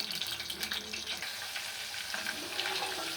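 Beans deep frying in hot oil for a bean fry dish, a steady, dense hiss and crackle of bubbling oil that holds evenly throughout, close and moderately loud.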